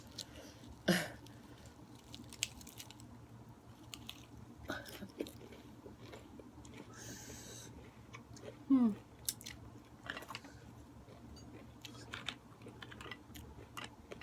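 Quiet, close chewing of a miang wrap filled with cockles, mint and dipping sauce: soft, scattered crunches and squishy bites over a faint steady background hum.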